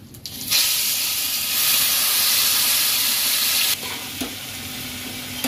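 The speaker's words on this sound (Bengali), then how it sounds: "লো ফ্লেমে আমি এইভাবে আস্তে আস্তে করে ভালো করে একটু ভেজে নেব।" Grated ridge gourd fries on a low flame in a pan with cumin and chilli, giving a steady broad sizzle and hiss that swells loud, holds, then eases slightly with a faint clink near the end.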